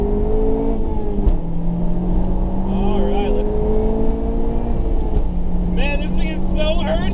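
A Honda Civic Type R engine heard from inside the cabin, with heel-and-toe downshifts bringing quick throttle blips that lift and drop the engine pitch. A driver talks over the steady, close engine drone.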